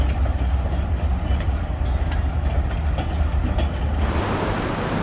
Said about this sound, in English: Lots of trains in this area.